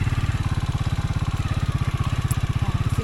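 A motorcycle engine idles close by with a rapid, steady low throb that stays loud and even throughout, with no change in revs.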